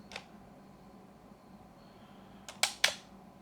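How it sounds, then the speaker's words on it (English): A faint early tick is followed after a long pause by two crisp, close clicks from a Yashica Electro 35 GSN 35mm rangefinder camera releasing its slow shutter, spaced about a quarter second apart. "There's your slow shutter."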